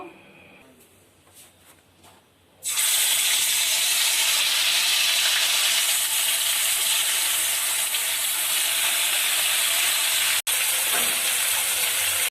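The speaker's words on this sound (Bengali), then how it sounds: "সর্ষার তেল দিয়ে দিচ্ছি মাছটা ভেজে নেব" Fish rubbed with salt and turmeric frying in hot mustard oil for a Bengali doi katla, a loud, steady sizzle that bursts in after a few quiet seconds and holds near and continuous.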